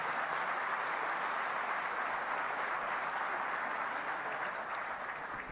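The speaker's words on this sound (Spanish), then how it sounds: "Brindemos un fuerte aplauso a nuestro conferencista, el doctor Diego Valadez Ríos" An audience applauds a lecturer after a keynote talk at a centenary event for the Mexican Constitution, a steady, even wash of clapping that stays level for the whole stretch, fairly distant and without speech.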